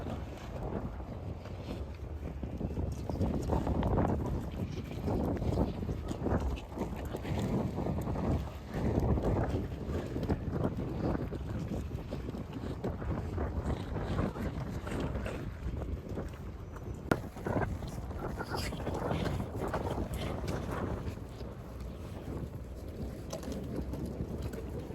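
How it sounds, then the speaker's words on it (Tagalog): Strong sea wind buffets the microphone at night on the deck of a ferry near the port of Tallinn, a constant loud rushing roar over a low engine rumble. "sobrang lakas ng hangin kasi nga malapit tayo sa dagat"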